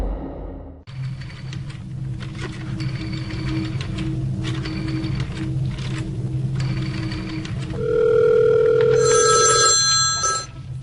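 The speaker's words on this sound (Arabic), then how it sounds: "لما كانوا بيستخدموا التليفون اللي بقرص" An old rotary dial landline telephone rings steadily over a low hum, its bell tone growing louder and more insistent toward the end.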